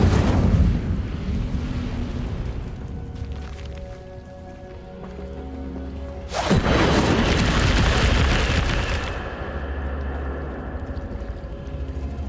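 A fire spell cast in Hogwarts Legacy gameplay bursts in as a sudden loud whooshing roar around the midpoint, rising over a rumbling game soundscape and then easing back into a steady ambient hum.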